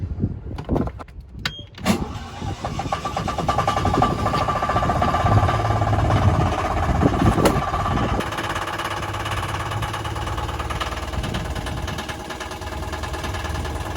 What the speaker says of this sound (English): So we're gonna start this engine up and check for leaks.